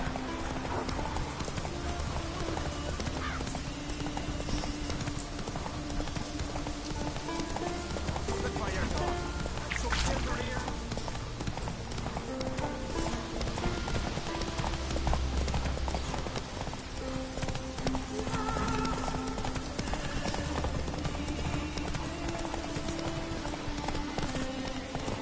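Hooves of a galloping horse beat rhythmically and constantly in a PS4 game, with an occasional whinny, while someone talks over the action.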